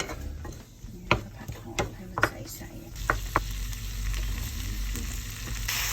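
Onion for oyakodon hits hot oil, with a few clattering knocks and scrapes followed by a loud, steady sizzle that carries on to the end.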